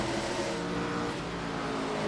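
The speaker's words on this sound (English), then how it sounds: "You heard him slowly lifting off the throttle and getting on the brakes." A NASCAR race car at the MBNA Bass Pro Shops 500 rumbles steadily as the driver lifts off the throttle and brakes coming onto pit road, the engine note held and fairly close with no talk.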